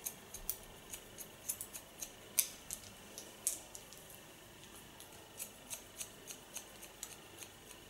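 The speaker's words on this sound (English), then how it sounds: "I can play with my normal scissors" Quiet, crisp scissor snips in an irregular rhythm, close by against a faint background hum.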